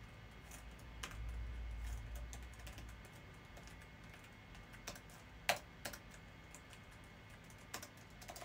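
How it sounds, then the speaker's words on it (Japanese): Typing on a computer keyboard, a quiet, fairly continuous patter of key clicks with a few sharper louder taps, close and alone without talk. "めっちゃタイピングしやすい。"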